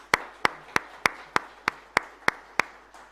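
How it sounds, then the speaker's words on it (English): Applause for an ambassador after a public talk on Pakistan-Kazakhstan relations, heard as about ten sharp, evenly spaced single claps in a slow, steady rhythm, close and distinct against a quiet background. "let me request the audience to join me in a big hand of applause for the Ambassador"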